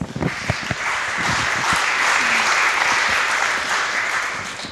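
An audience at a mapping and humanitarian technology summit breaks into sustained, steady applause welcoming a speaker to a lightning talk, a dense wash of clapping from start to finish after a few sharp initial claps.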